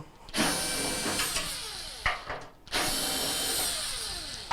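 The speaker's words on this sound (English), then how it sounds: "I'm just going to go in a clockwise fashion here and start removing the necessary bolts" A cordless power drill backs out T20 Torx bolts on a Whirlpool washer, whirring in two long runs with falling pitch as each bolt loosens, plus short clicks and a pause between them.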